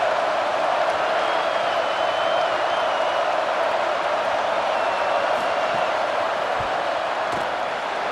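Steady, loud stadium crowd roar in a College Football video game, a continuous wash of murmuring and cheering voices holding through the tense moments before a late fourth-quarter field goal attempt.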